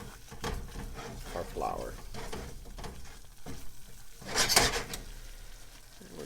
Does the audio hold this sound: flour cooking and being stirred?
yes